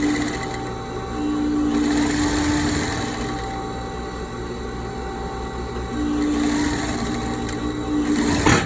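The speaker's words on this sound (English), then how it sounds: "And now we are going to stitch." Sewing machine stitching a face mask built for 3M 1900 filters: a continuous close whirring hum with small shifts in speed over about nine seconds, and no talk.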